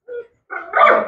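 Dog barking in a kennel, a short high yip followed after a brief pause by a louder, harsher bark, close and clear.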